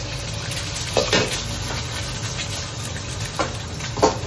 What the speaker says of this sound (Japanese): 明太子は炒めると面白い音が鳴り響くんで